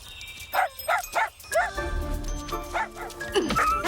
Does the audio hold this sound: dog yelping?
yes